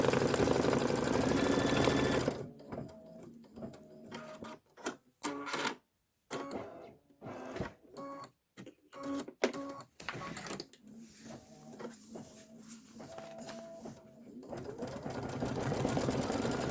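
A sewing machine tacks down appliqué on fabric for a Kimberbell bench pillow, its needle running in several short rapid bursts separated by brief pauses, close and fairly loud, with only a little sound outside the bursts.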